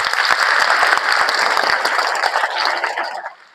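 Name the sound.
children clapping for themselves at church retreat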